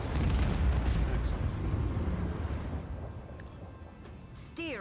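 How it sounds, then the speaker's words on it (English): Macro cannons firing in the video game Rogue Trader, a deep rumbling roar of explosive blasts that starts heavy and gradually fades out, followed by a short sharp crackle at the end. "Macro cannons, annihilate them."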